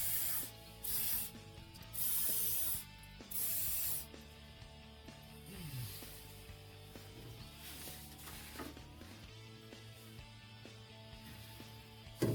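Penetrating oil sprayed onto fasteners in short hissing bursts, four of them in the first few seconds. Softer mechanical ratcheting and rubbing noises follow.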